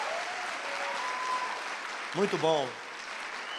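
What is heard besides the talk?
audience applause for the technical team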